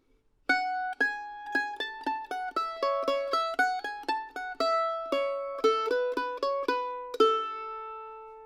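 A mandolin plays a quick single-note bluegrass melody, the second half of the B part of "Pretty Red Lips," bright and close, each note sharply attacked and ringing briefly, with a sustained final note.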